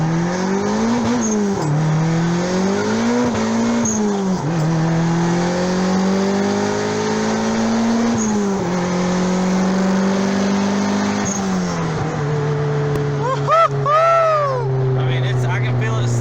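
Turbocharged Honda Integra with a slipping stage 3 clutch revving hard in first gear, engine drone rising and falling in sweeps, loud and close throughout, ending with a brief higher whine.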